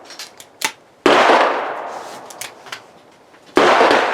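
A Girsan MC 1911 .45 ACP pistol fires two loud, sharp shots about two and a half seconds apart, each followed by a long decaying echo, with a few faint clicks and small handling sounds before the first shot.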